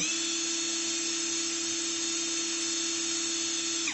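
CHIGO cordless screwdriver with torque control spinning freely at high speed, about 1050 rpm, a steady loud motor whine held for several seconds before stopping abruptly at the end.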